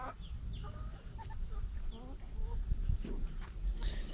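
Chickens cluck and a rooster calls in scattered bursts, at moderate distance over low background noise and rustling.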